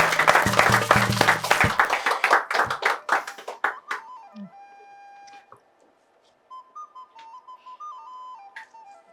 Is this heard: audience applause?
yes